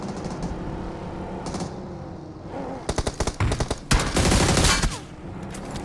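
Rapid bursts of automatic gunfire in a shooter video game, loud and close, arriving in clustered volleys with short gaps, played alone without talk.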